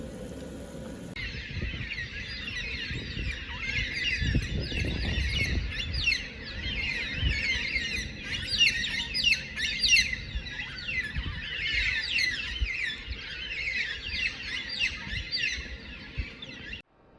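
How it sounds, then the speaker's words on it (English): A dense chorus of birds, including red-tailed cockatoos and roosters, chirps and calls continuously by a vineyard lake, with harsh squawks mixed in and a low rumble underneath. "Just listening to all the birds, roosters, and everybody else who wants to make some noise."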